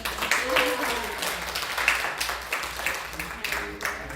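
A church congregation claps in welcome during a Sunday service, a short burst of applause mixed with a speaking voice over the room.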